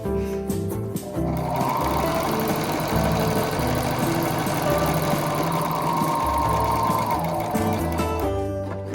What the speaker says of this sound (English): We're ready to sew our next seam.